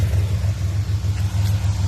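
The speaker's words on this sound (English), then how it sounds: "I hear an exhaust leak. Sounds like at the resonator flange." A 2007 Pontiac Grand Prix GT idles with an exhaust leak near the resonator flange, giving a steady, loud low rumble with a faint uneven pulsing and no talk over it.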